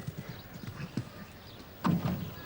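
A show jumping horse at the European Jumping Championships in San Patrignano, Italy, thuds its hooves in quick uneven beats on the arena ground, with a heavier landing thump near the end over a distant crowd murmur.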